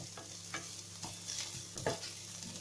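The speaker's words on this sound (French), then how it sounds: "On fait revenir un petit peu les échalotes." Shallots sautéing in a pan, a soft, close sizzle broken by a few stirring scrapes and clatters, fairly quiet with no talking.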